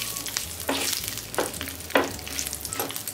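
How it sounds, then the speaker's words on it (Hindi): Whole spices such as cumin seeds, bay leaves, dried red chilies and cardamom fry in oil, giving a steady crackling sizzle broken by four stirring scrapes spaced through the moment, close by, with no voices. "पहले खड़े मसाला को अच्छी तरह से ऑयल में फ्राई किया"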